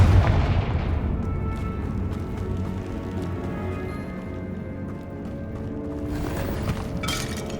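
Confringo fire spells blast repeatedly in Hogwarts Legacy, producing heavy booming explosions and crackling impacts that roll on continuously, with a fresh burst near the end.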